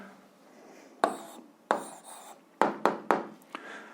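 Pen scratches on notebook paper in a quiet room, short separate strokes and taps, faint and close.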